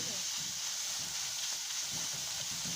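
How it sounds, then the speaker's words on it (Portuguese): Kale sizzles and fries in a pan over a campfire at a wild campsite, a steady, close hiss of cooking that runs without pause, with no talking. "agora eu tô fazendo a couve"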